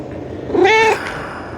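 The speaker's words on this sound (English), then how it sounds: "So this is my buddy, my cat, my boy Frank." A pet cat gives a single loud, close, drawn-out meow lasting under half a second, rising and then falling in pitch, in an otherwise quiet room.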